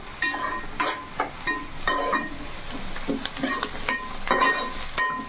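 Oil heats in a pan for a village-style fish curry, producing a continuous close sizzle broken by a series of sharp pops and spoon-like scrapes at irregular intervals, with no talking.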